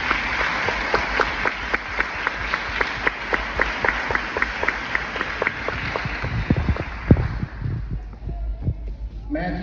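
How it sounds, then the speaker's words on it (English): Audience applause for kindergarten graduates at a Green Forest Kindergarten graduation, heard as steady, moderately loud clapping with regular sharp claps standing out, fading toward the end. "a big round of applause for all of our kindergarten graduates"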